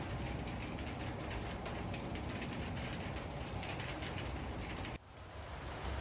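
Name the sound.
rain falling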